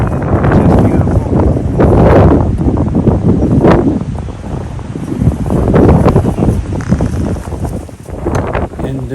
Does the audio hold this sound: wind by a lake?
yes